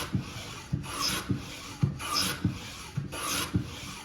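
A Stanley 45 combination plane cuts a bead along a wooden board in repeated strokes, each a soft rasping swish opening with a sharp catch, about seven passes in steady rhythm, close and quiet.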